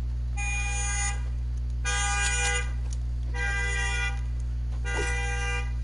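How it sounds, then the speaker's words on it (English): Car horn honks four times in separate, evenly spaced blasts, each about a second long, loud and close over a constant low engine hum. "why you honking your horn"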